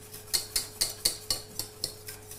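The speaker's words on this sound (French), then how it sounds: "Bien mélanger" A spoon scrapes rhythmically against a pan while stirring béchamel sauce, a quick series of about ten close, light clinking strokes.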